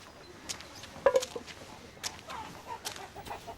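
A rooster clucks in short bursts at moderate distance, with faint rustling and light footsteps in the background.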